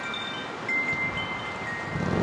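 Strong wind gusts buffet a microphone outdoors during an extreme-wind test of a Mavic 3 drone, a steady broadband rush that swells in brief surges, with a faint thin whine from the drone heard in the distance.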